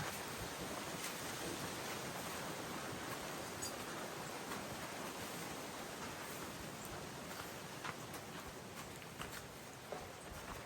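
Cold wind blows steadily across open rice fields, a constant broadband rushing roar with gusty microphone buffeting, loud and unbroken throughout, with no voices.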